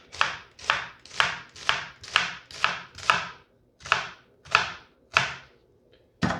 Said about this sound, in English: I'm just going to cut slits down the center of, down the lengthways of the onion